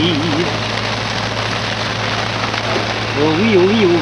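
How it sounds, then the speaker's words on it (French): Rain patters steadily on a surface over a low engine drone, with a voice briefly speaking at the start and end. "Bonifacio sous la pluie."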